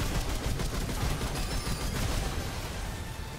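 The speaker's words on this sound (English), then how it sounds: "impact cannon for the win right there" Impact cannon fire in Remnant 2, a dense, continuous barrage of heavy booming shots and rumbling impacts that runs throughout, loud and close with no pause.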